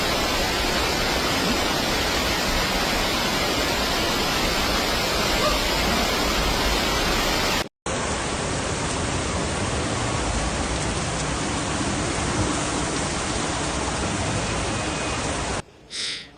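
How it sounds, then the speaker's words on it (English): Heavy rain and rushing floodwater pour through city streets in Jaén, Spain, a dense, constant roaring hiss with no pauses, briefly cut by a short edit gap. "rapid rainfall turned main roads into raging rivers"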